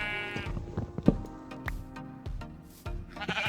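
Sheep in Minecraft bleat several times in quick, overlapping succession, loud and close, against a busy background of clicks and game noise.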